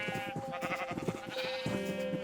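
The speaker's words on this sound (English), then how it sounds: "Just gonna breed these sheep one more time." Sheep in Minecraft bleat in a quick run of several calls over continuous game background sound, close and fairly loud, with no talking.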